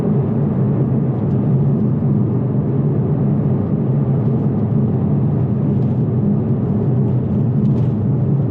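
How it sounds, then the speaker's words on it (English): Inside a 2021 Toyota Supra 2.0 on a bumpy road, a dense, constant low roar of tire and road noise fills the cabin, loud and unbroken, with no talking. "you do have quite a bit of road noise as well"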